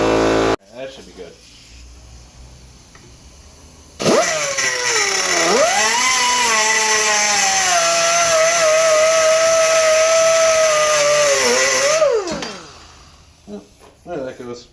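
A workshop air compressor switches on abruptly and runs as a loud, steady motor drone with a whining tone that dips and then settles, cutting off after about eight seconds to quieter background clatter.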